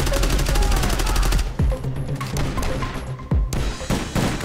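Video game gunfire: rapid automatic bursts up close followed by separate heavy single shots and thuds, loud and punchy.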